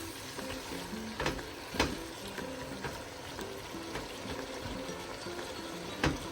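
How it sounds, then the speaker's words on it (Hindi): Chopped, washed cauliflower is tipped into a pot of cooking mutton, giving a steady watery sizzle and bubbling with a few louder clatters and splashes. No voices are heard. "चलिए अब मैं इसके अंदर डालती हूँ गोभी को"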